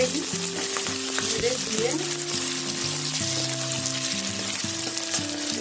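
Potato and chopped green chili fry in hot oil while being stirred, a steady close sizzle with scraping stir strokes; a voice talks briefly over it.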